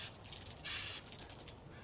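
Water sprays from a broken garden hose in a yard while a large maple is being pruned, coming as quiet, uneven hissing bursts with one stronger gush in the middle.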